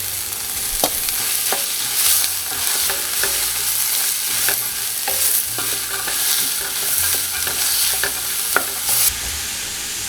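Celery and carrots frying in a pot for minestrone soup, stirred with a utensil, giving steady sizzling with scraping and clacking spoon strokes throughout.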